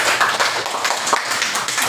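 A classroom of students claps together briefly, a quick patter of many hands at close range, sustained and uneven for a couple of seconds.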